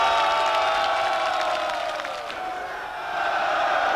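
A large outdoor crowd at a Yeltsin rally cheering and shouting together, a loud, dense roar of many voices that dips briefly midway then swells again.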